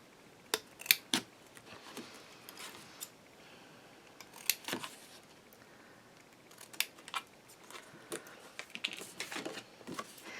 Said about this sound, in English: We're going to cut out those squares on each one of these.